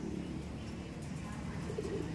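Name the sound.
racing pigeons cooing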